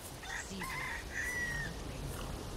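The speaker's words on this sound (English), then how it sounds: "Quiet, chicken." A chicken in the Resident Evil 4 Remake village clucks and squawks several times close by, over a steady ambient game soundscape.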